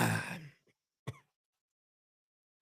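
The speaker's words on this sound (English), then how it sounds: "I get the cough every time, man." A person coughs and clears their throat after downing a shot, one harsh burst up front followed by two short, sharp coughs, close and loud with silence between.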